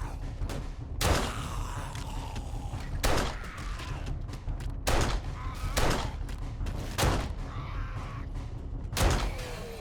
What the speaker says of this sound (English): What kind of bullets am I shooting out of this gun?